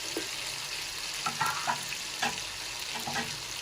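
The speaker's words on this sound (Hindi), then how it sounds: "जो हमने गोश्त उबाला था अपने मसाले के साथ थोड़ा सा गोश्त को फ्राई कर लेंगे।" Boiled beef frying in masala with garam masala, a steady hiss of oil with occasional scrape and stir clatters in a kitchen pan.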